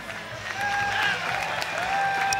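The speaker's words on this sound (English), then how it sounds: "Applause from the home fans." Home fans applaud at a beach volleyball semifinal on center court at the Québec Open, a steady wash of crowd clapping and cheering that holds for the whole stretch with a few thin whistles above it.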